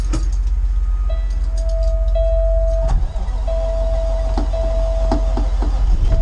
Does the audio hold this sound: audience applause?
no